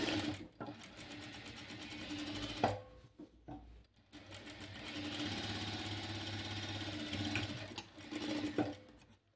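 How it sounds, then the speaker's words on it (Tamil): Rapid, close buzzing runs of a sewing machine stitching the shoulder seams of an A-line frock, several bursts separated by short pauses. "ஷோல்டரையும் நம்ம வந்து 2 பக்கமும் ஸ்டிச் பண்ணி எடுக்க போகிறோம்."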